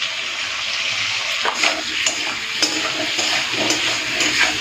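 Spice paste with turmeric and tomato fries in a pan with potato and papaya, giving a steady loud sizzle with a few soft scrapes of stirring and no talk.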